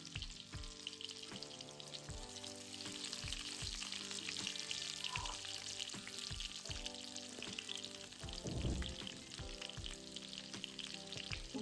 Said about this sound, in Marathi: आता यामध्ये मी हे एक वांग टाकते. याची फ्लेम ही लो ठेवायची यावेळेस.